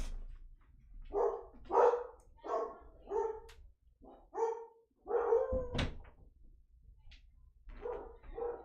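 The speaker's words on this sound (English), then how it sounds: "There must be another dog walking around." A dog barks repeatedly, in short bursts of a few yaps at a time with brief pauses between, fairly close and indoors, with no talking over it.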